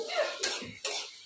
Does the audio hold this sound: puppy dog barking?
no